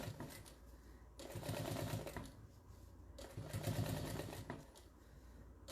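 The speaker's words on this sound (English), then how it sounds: "So if I move it faster and I keep the speed slow, I get more of a basting stitch." Sewing machine stitching a quilt in a long basting stitch, running in two steady bursts of rapid mechanical chatter separated by short pauses, close and clear with no talk.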